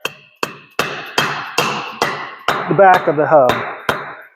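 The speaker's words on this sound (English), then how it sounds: "I just like to take a rubber hammer, face it down, and then just tap that in until it's flush to the back" A rubber hammer taps a part in flush against the back of a wheel hub on a mobile picnic table build, with about ten sharp, evenly spaced knocks close up and a brief spoken phrase between them.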